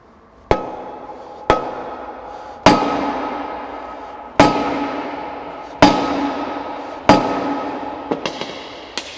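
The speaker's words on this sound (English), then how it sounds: "So we'll resort back to smacking it with a hammer." Sharp, loud hammer blows on the metal bearing housing of a JBS E-Series beater gearbox ring out one at a time at uneven intervals, each clang decaying slowly, with a few lighter taps near the end.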